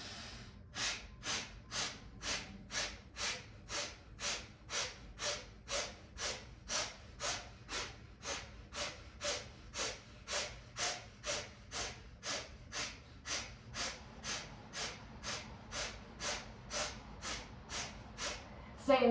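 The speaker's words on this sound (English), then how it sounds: "as you're using the breath of fire, forcefully exhaling out the nose" Breath of fire: forceful nasal exhales repeat in a steady, even rhythm, roughly two per second, close and sharp, continuing alone for the whole stretch.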